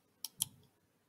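A computer mouse gives two quick, quiet clicks a fraction of a second apart while selecting an option on a library website, then falls silent.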